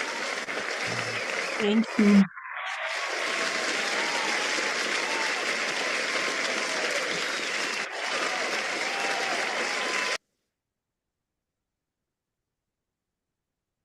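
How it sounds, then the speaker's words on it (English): A round of applause rises from the audience at a Toastmasters club meeting, steady broad clapping lasting about eight seconds after a brief spoken thanks, then stopping abruptly. "A round of applause for Murinda for that wonderful introduction."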